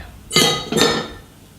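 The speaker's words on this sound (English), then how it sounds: "So I'm going to remove my dough hook" A metal dough hook is pulled from a stand mixer bowl, giving two sharp metallic clinks close together, each ringing briefly before fading.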